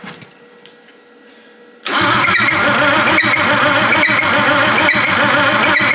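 A Datsun 280Z engine cranking on the starter after sitting abandoned, its throttle body seized, with low compression: after a quiet pause, a loud, steady, rhythmic whirring crank begins and continues without catching.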